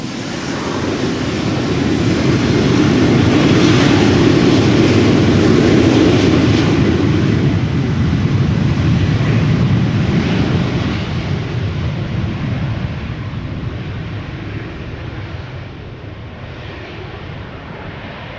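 A KLM Embraer 190 jet takes off from Amsterdam Schiphol toward Trondheim, its loud rushing engine roar swelling and peaking early, then slowly fading as it climbs away.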